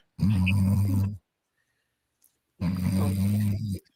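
A person imitates a tiny dog snoring, making two long, close, rumbling snore-like breaths with a quiet pause between them.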